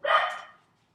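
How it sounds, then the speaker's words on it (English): A single short dog bark, close and fairly loud, fading quickly into silence. "Dogs barking."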